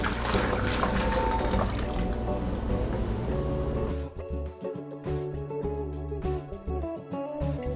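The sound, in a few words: hot tap water rinsing chicken wings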